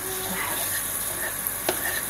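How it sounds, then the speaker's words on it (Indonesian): White rice mixed with tiwul frying in butter in a pan, a soft steady sizzle with scraping stirs and a brief clatter, no talk. "Teman-teman, mulai saya goreng-goreng ya. Ini nasi goreng putih saya campur dengan sedikit tiwul ya teman-teman."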